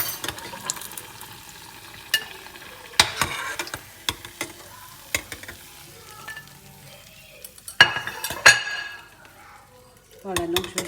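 A spoon stirs food frying in a pan, with scattered scraping clinks and sizzle at irregular intervals, a busier burst of clattering near the end, close and alone.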